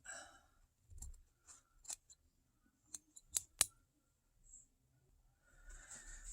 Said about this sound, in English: I just happen to have some scissors, so I'm just cutting it down a little bit.